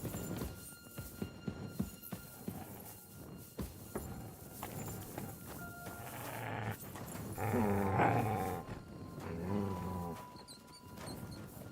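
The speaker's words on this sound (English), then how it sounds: "You silly doggy. God, where is that dog?" In the video game Kingdom Come Deliverance II, a dog growls low and rumbling over several seconds, building to louder snarls midway, mixed with game footsteps and clatter.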